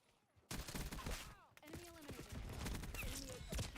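Gunfire in Call of Duty Black Ops 6 bursts in after a quiet opening as dense rapid shooting, continuing through the rest with a character voice calling out over the battle noise.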